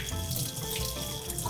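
Gold potatoes rinsed under a running kitchen tap, a steady close hiss and splash of water without talk.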